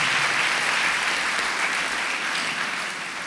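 A church congregation at a Father's Day Sunday Mass claps loudly for fathers, sustained dense applause from many hands that tapers slightly toward the end.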